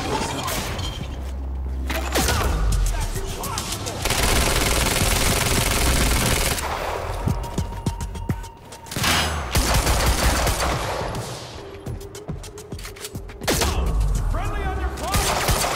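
Gunfire in the PC video game Quantum Break: loud, dense bursts of rapid automatic fire and heavy shots that come in long waves with brief lulls between them, mixed with mechanical clatter and debris crashes, while voices shout over the fighting.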